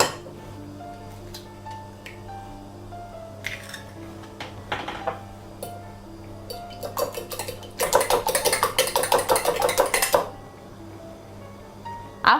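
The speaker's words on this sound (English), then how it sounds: "Also, we crack in an egg." An egg cracked into a bowl while making cornbread and turkey stuffing: scattered light clinks and taps of dishes and utensils, then a dense cluster of close sharp clatter and knocking against the bowl, alone without talk.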